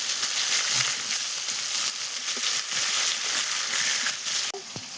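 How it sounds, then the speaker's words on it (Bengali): Fish frying in oil in a pan on a clay stove, a steady dense sizzle running close and constant throughout with small pops, briefly dropping near the end. "সুন্দর লাল লাল করে ভাজা হচ্ছে মাছগুলো।"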